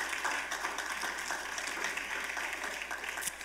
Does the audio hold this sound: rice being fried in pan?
no